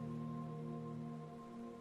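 Steady soft rain hisses throughout beneath sustained calm musical tones, forming a gentle, unchanging backdrop for a bedtime story.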